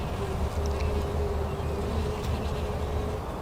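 Honeybees buzz at a hive in a steady, continuous drone, close and even in loudness throughout, with no talking.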